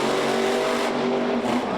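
The Maximum Destruction monster truck, fitted with a new transmission, roars loudly as it pulls away in first gear at a freestyle event, with a dense sustained engine howl and rising tone.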